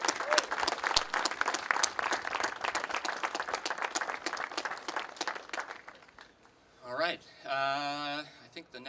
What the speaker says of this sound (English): let's give Heather a round of applause here